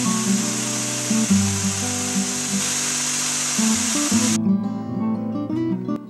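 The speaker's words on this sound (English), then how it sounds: "Next, I will run the top and bottom edges on my table saw." A table saw with its blade set barely above the table cuts a shallow channel along the edge of a wooden board, a loud close whine with a steady tonal hum that shifts pitch under load, then spins down.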